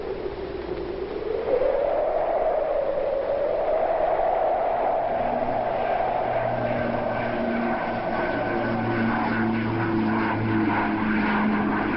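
Turboprop aircraft fitted with ski landing gear in Antarctica, its propeller engine droning steadily and loudly throughout, with the pitch rising after the first second and a tonal hum settling in, with no voices.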